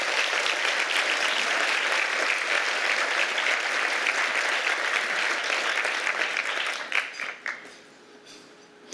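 Audience gives steady, dense applause for most of the stretch, then it tapers off abruptly into a few scattered claps and room quiet.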